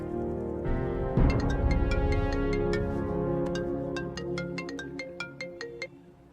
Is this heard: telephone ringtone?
yes